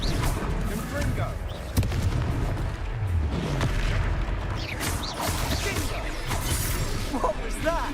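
The Confringo fire spell detonates during a battle in Hogwarts Legacy on PC, with loud booming explosions and crashing impacts piling up against dense combat noise while voices speak over it.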